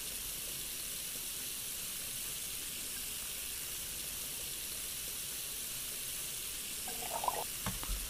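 Tap water runs steadily into a big cooking pot in a kitchen simulator game, a broad continuous hiss that ends with a few soft clunks as the faucet shuts off.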